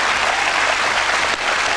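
Studio audience applause during a talk show, a dense, continuous roar of many clapping hands, loud and unbroken throughout.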